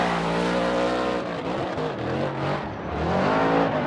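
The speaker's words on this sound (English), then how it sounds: "Chelsea Denofa, the BC Racing Nitto tire, Ford Performance Mustang RTR, ready to rowdy. Throws it in. Let's listen to this thing purr." A Ford Performance Mustang RTR drift car engine roars and revs hard at high speed during Formula Drift qualifying at Irwindale, the pitch rising and dipping as it is thrown around, loud and continuous with no talking.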